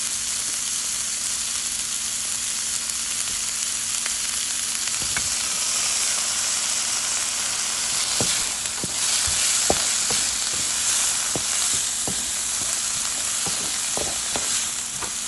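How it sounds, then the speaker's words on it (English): Tomatoes and cilantro sauté in a pan for a one-pan dinner, a loud, dense, continuous sizzle close up with a few light spatula taps scattered through the second half. "Let's go ahead and get this sauteed."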